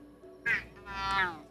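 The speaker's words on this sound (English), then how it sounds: "Are you angry enough yet to meow again?" A house cat gives two drawn-out, complaining meows close by, the second longer and rising then falling, over a faint steady background hum.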